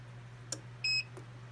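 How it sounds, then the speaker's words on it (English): A single short electronic beep from a ZENY heat press sounds clearly, with a couple of faint clicks around it against a steady low hum. "So set, press, hold till it beeps"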